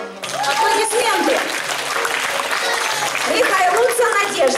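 Audience at a puppet show of Morozko in Dubna breaks into steady applause, dense clapping filling the room throughout, with a voice speaking over it at the start and end.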